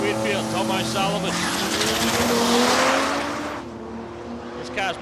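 A drag racing car at Palmyra Raceway makes a pass, its engine note climbing and roaring past at close range, then fading, with a commentator talking over it.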